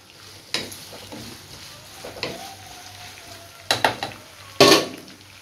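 Onions sautéing in oil over a high flame for beef gravy: a low constant sizzle under several sharp spoon scrapes and clatters against the pan, the loudest ones near the end.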